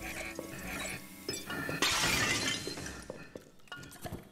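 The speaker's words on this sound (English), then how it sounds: "Do I need to smash the toilet?" A toilet smashed in the Luigi's Mansion 3 video game: a loud burst of shattering porcelain and glassy crashing at the midpoint, with clinks and debris rattling before and after among game sounds.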